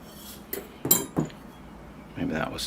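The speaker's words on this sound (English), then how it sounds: "Fill it up with a base layer of soil." Soil is poured into a bonsai pot over a drainage screen, with several short gritty scrapes and clinks against the pot and a longer rustling pour near the end, all fairly close.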